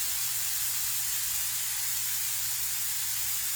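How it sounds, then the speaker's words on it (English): Olive oil drizzled over peppers on a griddle setup, heard as a steady broadband hiss and spray-like sizzle, fairly even and unbroken throughout with no talking. "So now I'm going to add a little olive oil to these."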